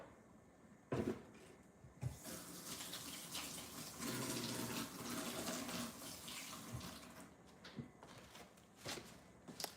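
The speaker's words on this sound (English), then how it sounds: "Let me rinse my hands off again" Kitchen tap running as hands are rinsed under it, soft splashing water rising after a couple of knocks, then easing off, faint and close.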